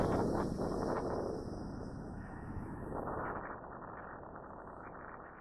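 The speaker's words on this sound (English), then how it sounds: "it's way too windy outside" Strong wind on a beach buffets the microphone with a loud, rumbling roar that swells and eases over several seconds, with no talking.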